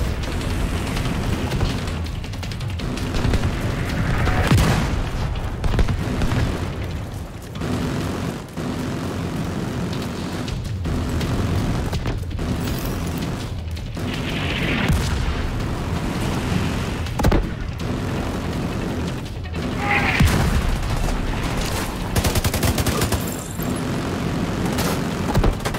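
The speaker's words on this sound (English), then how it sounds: "Watch out for mortars! I've seen mortars on the roof." In The Division 2, autocannon fire and mortar explosions form a loud, continuous battlefield roar, punctuated by repeated heavy bursts and booms throughout.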